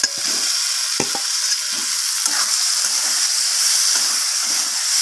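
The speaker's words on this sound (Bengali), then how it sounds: "তো আলুটা দেওয়ার পর আমি কষিয়ে নিচ্ছি আলুটাকে এইভাবে" Fried potatoes are stirred into spice masala in a hot pan for a rohu fish curry with potato, pointed gourd and eggplant, giving a constant sizzling hiss with intermittent scraping and clacking stirs, close up and without speech.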